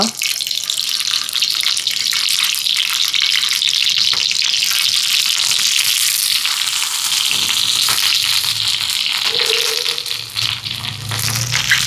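Boiled eggs frying in hot sesame oil on a heated pan produce a dense, crackling sizzle, loud and continuous, with a faint clink near the end.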